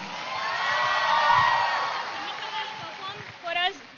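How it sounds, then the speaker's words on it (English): An audience at a youth festival cheers and whoops for a dancer's fusion performance, a loud, steady crowd roar that swells and then tapers, with a final burst of shouts near the end. "A big round of applause for Shamika."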